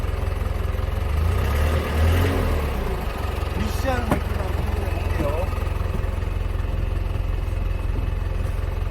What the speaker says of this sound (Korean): 엔진 소리는 상당히 좋네요.